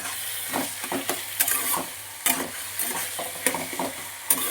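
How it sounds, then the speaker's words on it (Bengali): Boiled pumpkin being stirred and fried with onion and garlic in a pan, a soft steady sizzle broken by sharp scraping strokes of a spatula at irregular intervals, close and without talk. "এবার আবার খানিক্ষণ নাড়াচাড়া করে নেবো পেঁয়াজ রসুনের সাথে"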